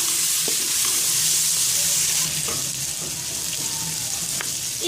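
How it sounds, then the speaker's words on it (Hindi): Mutton fries with spices in a pan for a Mughlai mutton pulao, giving a loud, continuous sizzle close up, broken now and then by faint clinks of stirring. "मटन को इसमें फ्राई कर लेने के बाद मैं ये तमाम स्पाइसेस इसमें ऐड कर दूंगी और इसको अच्छे से फ्राई कर लूँगी।"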